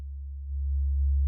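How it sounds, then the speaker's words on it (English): A synthesizer produces a pure, low sine wave tone, held steady and swelling slightly louder about halfway through, with nothing else heard. "So if I have a sine wave here"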